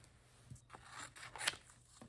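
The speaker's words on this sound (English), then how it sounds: "Gonna cut around them, always cutting in a heart shape or a heart outline all the way around." Scissors cut around watercolor heart shapes on paper, giving a series of quiet, irregular snips and crisp rustles, close and soft with no talking.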